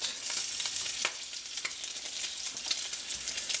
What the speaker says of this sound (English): Looks like that's getting cooked. So I'm gonna flip it.